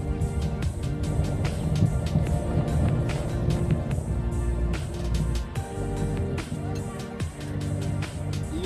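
A worn left-side tie rod end on a Ford Ikon 1.3 makes a rapid, repeated clicking knock under a steady engine and road hum, while someone talks over it.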